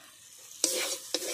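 Fried potato and pointed gourd with garam masala being stirred in a pan: two close, sharp scraping strokes, each trailing into a brief sizzling hiss, with no voices.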